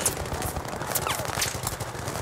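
Rapid gunfire in Battlefield 3 rattles continuously, dense overlapping shots and bursts with a constant crackling background.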